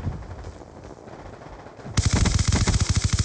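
MP7 gunfire in a team deathmatch shooter video game: a quiet stretch gives way halfway through to a loud, rapid burst of automatic shots firing in a fast, steady rhythm.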